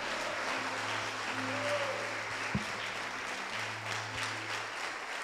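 A church congregation applauding, with dense clapping at moderate distance under low humming background tones and a faint voice.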